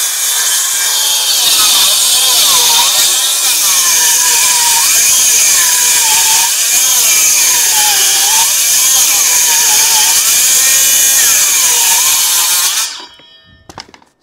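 A power tool saws imperial timber sheets for a garden room's walls, cutting them down to 1.2 metres: a loud, steady rasping cut running for about thirteen seconds with a rhythmic wavering, then stopping abruptly with brief clatter.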